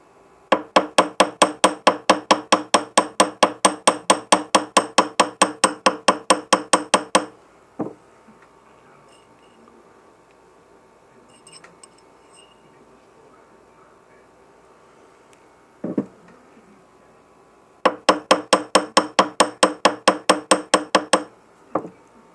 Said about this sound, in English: Now we're beating with a ball peen hammer